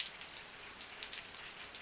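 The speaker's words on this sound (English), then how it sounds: "See, now the rain's let up a little bit." Rain patters steadily on surfaces outdoors in Louisiana during Tropical Storm Barry, a soft, even wash of drops with no voices.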